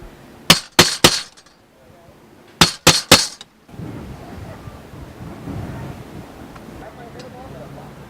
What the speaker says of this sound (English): And by peening it, we mushroom the top of the head so it holds it onto the plate.